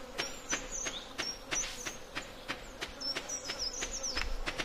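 A fly's buzz from the Stardew Valley video game whines in thin, wavering bursts over a steady background, mixed with a regular series of sharp clicks or ticks spread across the passage.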